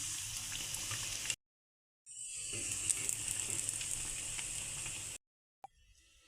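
Bread patties frying in hot oil give a steady, close sizzle that cuts out briefly twice and then returns quieter at the end.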